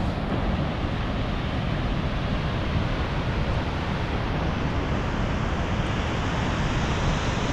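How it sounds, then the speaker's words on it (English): Ocean waves breaking on a sandy beach in Da Nang, Vietnam, a steady, loud wash of surf filling the whole stretch, with wind rumbling against the microphone. "Nice beautiful sand, nice waves."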